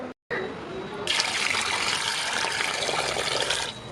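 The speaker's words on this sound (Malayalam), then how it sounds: "വെള്ളം ചേർത്ത് കൊടുത്തിട്ടുണ്ട്" Water gushes steadily into a pressure cooker of sambar ingredients, a sustained splashing pour that begins after a brief pause, with a voice talking over it.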